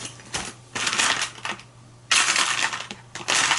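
A small craft knife cutting a part out, heard as a few close, scratchy bursts of slicing and scraping separated by short pauses.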